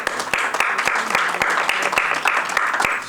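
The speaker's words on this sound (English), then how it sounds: "Give him a big round of applause." Audience applause fills a conference hall at an event on women's and girls' empowerment, a steady dense clapping held at even loudness throughout with no talk over it.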